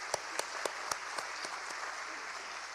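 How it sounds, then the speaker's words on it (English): Audience clapping at an annual chamber of commerce dinner and awards ceremony, a brief scattered round of claps with several distinct sharp hand claps over a soft crowd patter, fading quickly. "we'll give them a big round of applause"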